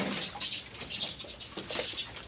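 Soft flapping and splashing patter of pigeons bathing together, with faint bird chirps and cooing, irregular bursts of wingbeats in water nearby, quiet overall.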